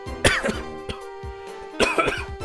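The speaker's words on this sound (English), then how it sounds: "I'm sorry about that sudden coughing fit" A close, harsh coughing fit: a burst of rapid coughs, a brief pause, then another cluster of hacking coughs.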